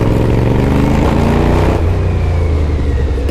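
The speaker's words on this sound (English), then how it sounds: "the engine still sounds like a fucking demon" A small motorbike engine revs loud and close, a throaty, buzzing roar that rises and then eases back toward a steady idle.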